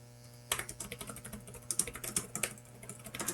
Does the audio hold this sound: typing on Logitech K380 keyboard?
yes